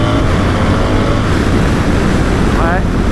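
A BMW R1300GS motorcycle accelerating hard, its engine note rising under heavy wind roar, with a voice talking over it.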